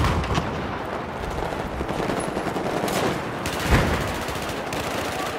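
Rapid automatic gunfire and scattered shots rattle through a Battlefield 4 multiplayer match on PS4, dense bursts overlapping with a heavier blast near the end, loud and continuous without talk.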